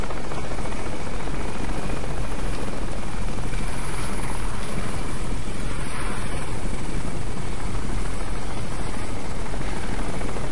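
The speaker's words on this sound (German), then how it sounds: "Ein Heli fliegt hier auch noch lang." A loud, constant helicopter rotor thump and engine roar from the video game Crysis, steady and close, filling the whole stretch with no other sounds.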